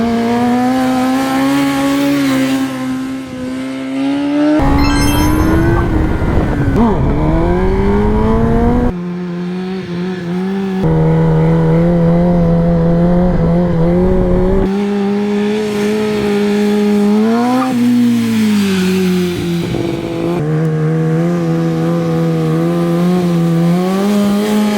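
Kawasaki track motorcycle at full throttle, engine pitch climbing in repeated sweeps broken by quick quickshifter gear changes, loud and close throughout.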